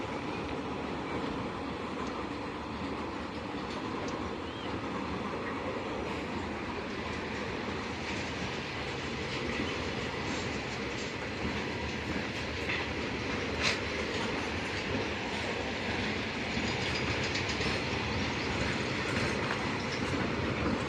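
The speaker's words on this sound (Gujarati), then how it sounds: "રેલ સ્પેશિયલ આવી રીતે વહી જવાની છે" A special train rumbles past nearby through a station yard for a long stretch, wheels clattering steadily over the rails with a faint squeal now and then.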